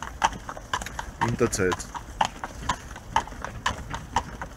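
Horses pulling a Fiaker carriage in wintertime Vienna clip-clop in a steady, close rhythm of hoof strikes, with a person speaking briefly over the hooves.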